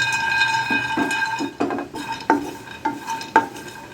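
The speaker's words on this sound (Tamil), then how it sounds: "அதுவும் லோ ஃப்ளேமில் நம்ம 2 நிமிஷம் நல்லா வறுத்துக்கலாங்க" Pistachios dry roasting in a pan over a low flame, with a steady soft rattle and repeated scraping stirs that clink against the metal pan, close and fairly loud, with no talking.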